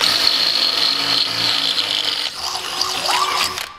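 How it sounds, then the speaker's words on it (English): A power drill bores a hole while building a tire out of baseballs, giving a steady high whine that runs unbroken for a few seconds before shifting pitch and winding down near the end. "Step one is drill the hole."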